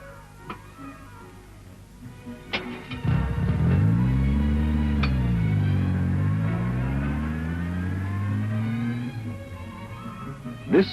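A Jaguar E-Type sports car engine revs up and down with a rising and falling wail, loud for several seconds and then settling. The sound has the dated character of an old film soundtrack, with faint clicks before and after.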